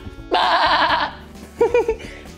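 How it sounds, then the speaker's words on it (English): A pair of farm sheep bleat up close: one long, wavering bleat followed after a pause by a shorter quavering one, over a quiet background. "Yeah, these are two sheep."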